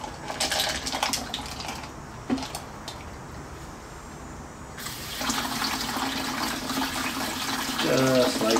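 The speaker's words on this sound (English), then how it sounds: "we'll rinse that one off twice" Tap water runs and splashes while tumbled rocks are rinsed off in a sink. The flow swells louder partway through, and a voice speaks over it now and then.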